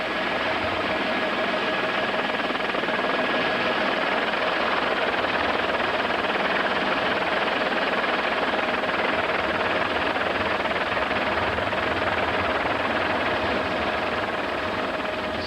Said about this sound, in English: A Texas Department of Public Safety helicopter was already trying to pick someone out of the treetops